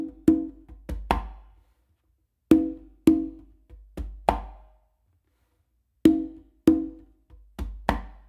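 Close conga playing of a full funk groove: clusters of crisp hand strikes, slaps and bass tones in a repeating rhythmic phrase, loud and dry with short decays and pauses between phrases.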